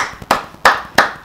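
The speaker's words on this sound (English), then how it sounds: "Claps, claps, claps." Three sharp hand claps in an uneven rhythm, close and loud, each a crisp isolated smack with a short decay and no voices over them.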